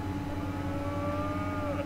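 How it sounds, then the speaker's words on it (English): Cows low from a farm scene in the video game That Dragon, Cancer, a drawn-out moo held steady over a continuous game backdrop, moderately loud with no talking. "Farmer Bill plays hide and seek with the cows."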